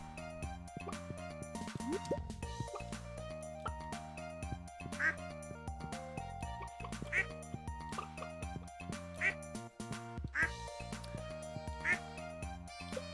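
Farm ducks in Stardew Valley quack in short, repeated calls over looping game music, the quacks popping out clearly every second or two.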